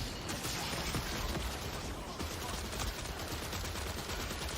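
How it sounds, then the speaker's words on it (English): Continuous rapid gunfire and explosions fill a dense, loud battle scene from the Marathon video game, with shots overlapping throughout and no clear gaps. "They were shooting something in here."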